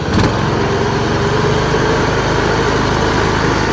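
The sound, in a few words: Troy Bilt Pony lawn tractor engine idling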